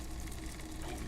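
In the Disco Elysium video game, a reel-to-reel tape recorder's reels spin up, producing a steady mechanical whirring hum with a slight flutter, continuous and moderately close.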